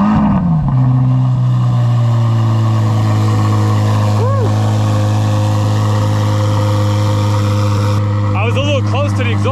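A 2023 Corvette C8 Z06 engine cranks and catches by remote start, then settles into a deep, loud, steady idle close by, with a brief rev near the end.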